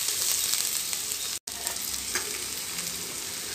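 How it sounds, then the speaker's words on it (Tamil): Radish pieces sautéing in a hot pan, a steady close sizzle and crackle of frying with a brief cut to silence midway, no talk. "இதை சேர்த்துட்டு 1-2 நிமிஷம் வந்து நல்லா வந்து வதக்கிக்கலாம்."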